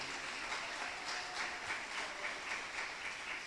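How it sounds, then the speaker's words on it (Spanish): A church congregation applauds God during a sermon, a steady, fairly distant wash of clapping that holds evenly without a break. "Denle un aplauso a Dios."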